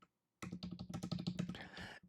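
Fingers typing on a computer keyboard to enter figures in a spreadsheet, a quick run of close, soft key clicks in an uneven rhythm, with no talking.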